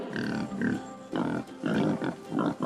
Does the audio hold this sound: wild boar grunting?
yes